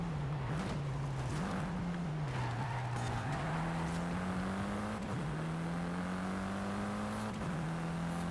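A heavy car with big brakes in a grand-touring canyon race in a driving video game drones with a steady, loud engine note throughout, dipping briefly several times as it slows and downshifts.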